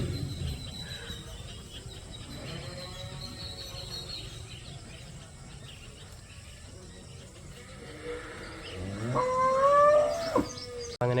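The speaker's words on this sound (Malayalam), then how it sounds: "അടിപൊളിയായിട്ട് പശുക്കളൊക്കെ നിൽപ്പുണ്ട് കേട്ടോ" Cows at a dairy farm shed low in a rumbling background, then one cow lets out a loud nearby moo toward the end that rises and falls before cutting off.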